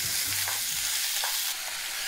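Chicken feet fry in hot oil with a loud, dense, continuous sizzle and some stirring, close up and with no talking.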